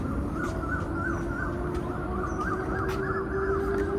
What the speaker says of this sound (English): The only thing you can hear now is just the chirping of birds in the trees now.